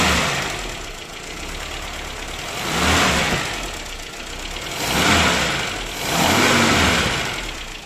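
A Mercedes-Benz M102 engine converted from carburetor to distributorless EFI revs and accelerates, rising in three loud surges over a steady running drone, with no talking.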